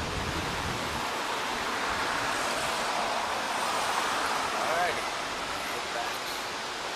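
The Wailuku River in Hawaii rushes in a steady, dense broadband roar of flowing water, continuous and fairly close, with faint talk partly buried beneath it.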